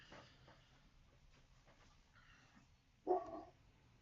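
A dog barks from across the street: a single short, distant bark after several seconds of quiet outdoor ambience.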